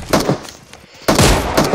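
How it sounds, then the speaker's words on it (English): Gunfire from the battle royale game PUBG: several sharp bursts of shots, one near the start and a louder cluster just past the midpoint, with the last shots fading toward the end. "Okay, somebody is firing."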